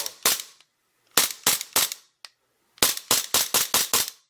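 A CO2 airsoft pistol fires off a full magazine in sharp, loud snapping shots, a few spaced bursts followed by a rapid string of about eight pops.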